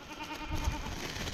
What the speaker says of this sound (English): Goats are a little mad.